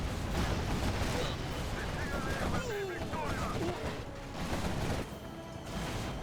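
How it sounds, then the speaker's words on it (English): MiG jets drop an air strike in the real-time strategy game Generals Evolution during a 3v3 armoured battle, setting off a dense, continuous barrage of loud explosions and crashing blasts with no pause. "That's an amazing MiG strike."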